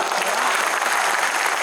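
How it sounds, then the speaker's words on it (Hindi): Audience applause at an outdoor poetry recital during the Taj Mahotsav festival in Agra, a steady, moderately loud wash of clapping with no break. "तालियां कमजोर है दोस्तों"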